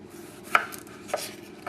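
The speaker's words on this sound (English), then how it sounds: "we slice it very, very thin like that" A knife slicing potato very thinly on a cutting board, two distinct crisp cuts with soft rubbing between, close and quiet, no speech.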